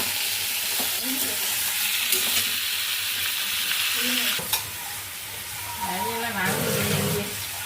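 Banana flower and boiled potato being stirred in a sizzling pan, with scraping strokes of the spatula over a continuous frying hiss, close up, while someone talks over it.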